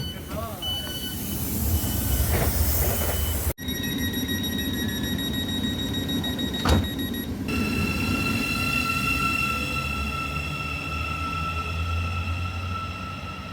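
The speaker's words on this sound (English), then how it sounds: "And there goes Finn's train." Train pulling out of a station on the Abbey Line near St Albans, with a steady rumble and rising tonal whine from the traction motors, a door-closing beep and a brief thump, while voices murmur nearby on the platform.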